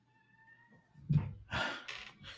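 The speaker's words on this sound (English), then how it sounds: "do you not hear the kitten?" A kitten mews indoors, a few short faint meows after a quiet start, close but soft, with no talking over them.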